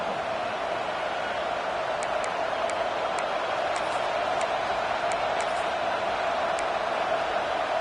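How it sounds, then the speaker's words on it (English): A football stadium crowd roars as one steady, dense wall of noise, loud and unbroken, with a few sharp whistles or shouts poking through now and then. "This crowd ready to make its presence known."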